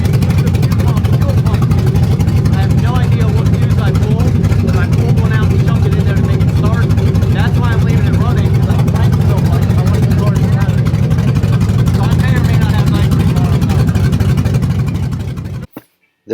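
An LS-swapped Dodge truck's engine runs steadily at close range, a loud, continuous low rumble with voices talking over it, before cutting off abruptly near the end.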